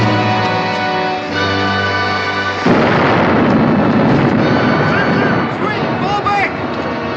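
Cannon fire and explosions from a battle in a 1964 adventure western television episode: a sustained, loud wash of blasts and rumble follows a stretch of music, with shouting voices mixed in throughout.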